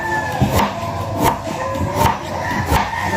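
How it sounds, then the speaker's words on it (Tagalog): Radish being peeled and sliced on a board, a steady run of knife chops and scraping strokes recurring about every two thirds of a second over a background hum. "Isunod natin ang labanos, balatan at saka hiwain."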